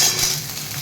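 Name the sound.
taro and potatoes frying in hot oil with onions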